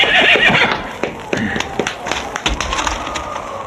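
Horses whinny and neigh in a Spanish-language radio drama scene, loud and close, with hoof clip-clop and bits of background sound mixed in.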